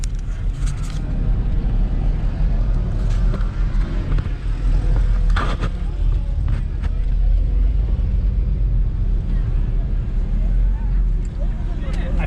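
BMW X5 diesel SUV launching hard off the line at a spectator drag strip, a loud sustained engine rumble under crowd noise and excited voices throughout.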